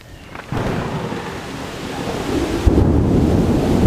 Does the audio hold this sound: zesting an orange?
no